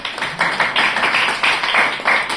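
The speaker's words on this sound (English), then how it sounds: "Big round of applause for everybody in participation." Students in a spoken English class in Lahore applaud together, a quick run of clapping bursts at an even, pulsing rhythm that holds steady for a couple of seconds.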